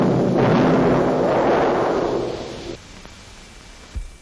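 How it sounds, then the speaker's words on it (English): A 4-pound dynamite charge goes off in rock strata during seismic oil prospecting, a broad loud roaring blast that rumbles for a couple of seconds before falling away into quiet with a small late thump. "4 pounds of dynamite in this charge."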